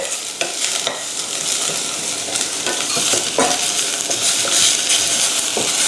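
Shredded cabbage and carrot are stir-fried for borscht, a loud crackling sizzle broken by repeated scraping and tossing strokes of a utensil against the pan.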